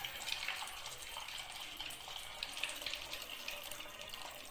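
Oil for a homemade Kerala-style hair oil being strained through a filter and poured into a dry vessel, making a steady, close trickling and splashing stream with no talk.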